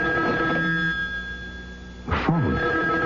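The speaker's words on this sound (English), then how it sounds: "phone. At this hour? I'll get it." An old-fashioned telephone bell rings in a vintage radio drama scene, a steady ringing tone with a sharp burst near the end, heard alone without talk.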